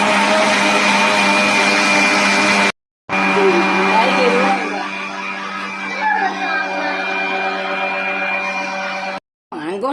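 A blender mixing a homemade mango shake with two to three spoons of ground nut powder, a loud steady motor whine with rich harmonics, broken by two short stops.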